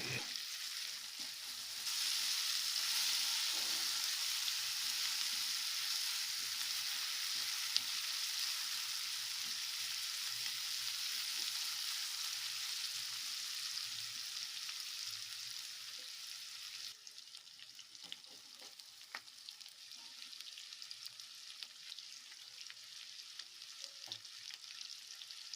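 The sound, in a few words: frying blended spinach (palak) in a pan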